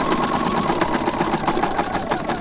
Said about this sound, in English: We'll sew around this corner